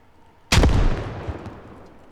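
A single sharp, loud blast from a grenade in a first-person shooter video game, bursting suddenly and rolling off into a decaying boom with a faint secondary thud.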